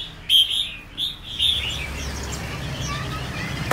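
Caged birds in a bird shop, including white-cheeked and breeding-stock finches, give several loud, quick chirps and tweets over a busy background hum of the shop.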